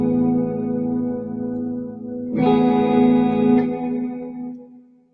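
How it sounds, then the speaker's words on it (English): An electric guitar played through a single reverb effect rings out in sustained chords, with a brighter strummed chord swelling midway and long washy tails fading out at the end. "But yes, like I said, I can just use one reverb."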